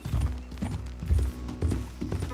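A horse ridden across the ground in Red Dead Redemption 2 clip-clops in a steady rhythmic gait. The hoofbeats are close and clear, with faint creaks from the tack.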